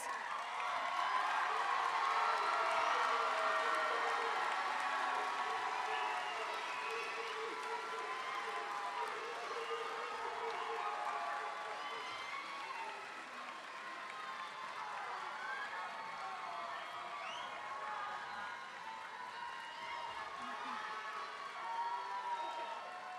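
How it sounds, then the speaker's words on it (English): Graduation audience at a school commencement clapping and cheering, a long, steady wash of applause with scattered whoops, somewhat distant. "So clap away, folks."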